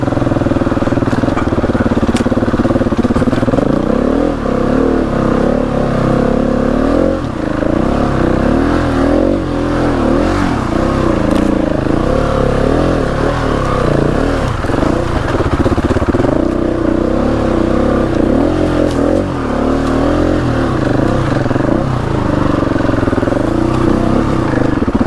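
An off-road motorcycle climbing a steep lane in East Sussex revs hard and steadily at close range, holding high revs with small surges and dips throughout.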